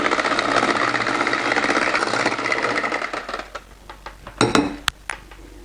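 A hand mixer whirs loudly through apple cake batter with vanilla extract and lemon zest, then cuts off, leaving a few sharp clinks of bowl and utensils close by.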